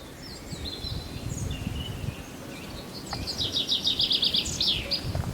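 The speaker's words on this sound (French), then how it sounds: "Vous entendez le gazouillis des oiseaux." Birds chirp and trill in the distance over a rustling outdoor background at a picnic spot on a Pyrénées-Atlantiques hiking trail near Sare, with a brighter rapid twittering burst near the end.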